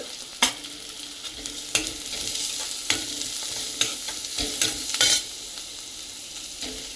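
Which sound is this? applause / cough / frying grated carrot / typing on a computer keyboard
frying grated carrot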